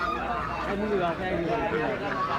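Ducks and geese for sale at Putia Bazar, a village market in Bangladesh, honk and quack amid a dense hubbub of crowd chatter and nearby talk, continuous and close.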